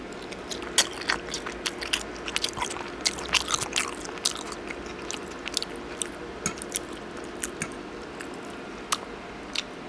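Close, wet chewing of oxtail curry right at a lapel mic, with steady squelching bites and small crunchy clicks repeating throughout.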